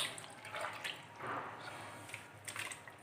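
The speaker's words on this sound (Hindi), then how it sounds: "खुबानी के पानी को मैं छान कर इस तरह से इसके अंदर शामिल कर दूँगी" Strained apricot water poured into a large cooking pot, a quiet trickling, dripping stream with soft splashes running steadily throughout, faint and close with no talking.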